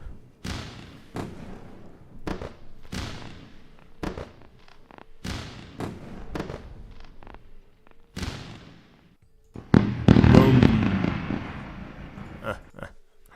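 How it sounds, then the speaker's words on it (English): Fireworks sound effect played during a live day-trading stream: a run of sharp, separate booms and thuds, then a dense burst of crackling explosions that fades into a few last pops. "We're gonna do another round of fireworks."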